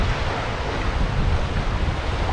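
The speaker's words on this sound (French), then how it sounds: "il y a du vent, il y a du vent." Strong wind blowing across a pebble beach at the far southern tip of Gotland, a steady close roar of gusts and surf with no pauses and no voices.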